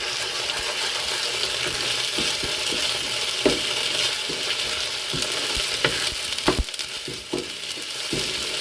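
A spoon scrapes and taps around a kadhai over a constant sizzle, with several sharper clinks as fried onions and ginger-garlic paste are stirred.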